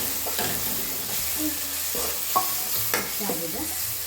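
Garam masala stirred into carrot chitranna frying in a pan: a soft sizzle runs under several scraping strokes of a spoon against the pan, close and clear.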